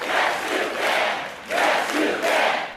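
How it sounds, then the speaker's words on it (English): Large crowd at a North Carolina campaign rally chanting in unison, loud rhythmic repeated phrases rising and falling in waves, dense and continuous with no single voice standing out. "Yes, you can, they chanted."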